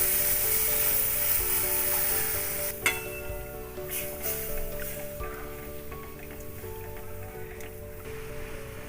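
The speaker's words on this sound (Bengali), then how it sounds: "মাখনে ময়দাটা ভাজা হয়ে গেছে। এর মধ্যে আমি একটু দুধ দিয়ে দিলাম," Milk poured into flour fried in butter sizzles in a pan, a steady crackling hiss with a clink near the start, heard under soft background music.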